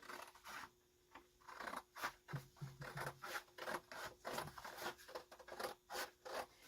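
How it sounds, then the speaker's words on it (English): Fabric strip being cut for pinch pleat curtains, a steady series of close, rasping snips and slides repeating about every half second with no talk. "now I'll go ahead and I will cut this strip off here"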